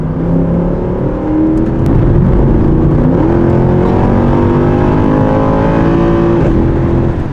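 Naturally aspirated V8 of a Mercedes-Benz C63 AMG 507 Edition, accelerating hard through rising revs with a clear upshift, loud and close from the cabin, no speech.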